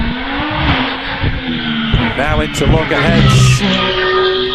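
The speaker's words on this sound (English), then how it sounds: "Doesn't it sound good, that V6 in the back of this sinister looking black car?" A V6 hillclimb race car, mid-engined and black, accelerating up a hill course, its engine note rising and falling through gear changes while a commentator talks over it.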